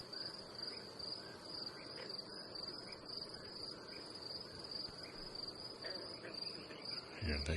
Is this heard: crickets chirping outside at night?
yes